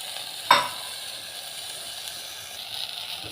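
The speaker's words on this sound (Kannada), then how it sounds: "ನಂತರ ಹಾಗಲಕಾಯಿ ಸೇರಿಸಿಕೊಂಡು ಫ್ರೈ ಮಾಡಬೇಕು" Bitter gourd frying in a pan with tomato, a sharp clink of a utensil near the start, then a steady low sizzle with faint stirring.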